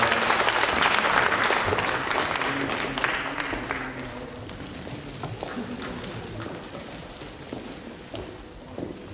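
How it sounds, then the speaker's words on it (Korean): A hall audience at a school's 133rd anniversary ceremony applauds retiring teachers and staff, a loud dense clapping that gradually fades over several seconds, with faint voices beneath. "선생님들과 주무관님께 큰 박수로 축하해 주시기 바랍니다"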